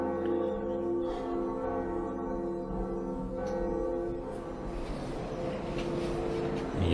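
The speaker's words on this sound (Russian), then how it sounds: "Это мы сейчас колокол позвонили." A large bell in the Dark Souls Remastered video game tolls with a long, sustained metallic ring that hums on for several seconds, full and resonant, with no talking over it.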